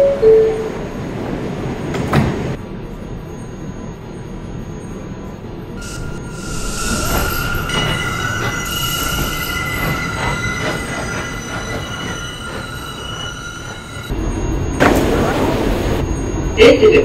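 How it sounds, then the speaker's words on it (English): A Queensbound A express subway train in Roblox Transit City 3 runs through a station with rumbling wheels, squealing tones and steady rail noise, and announcement voices are heard over it. "This is a Queensbound A express train."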